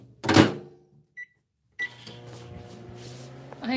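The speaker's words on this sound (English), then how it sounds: "heat up the microwave itself for about 10 seconds" A door clunk and a single short beep give way to a steady low microwave hum running continuously, close by, with a brief voice near the end.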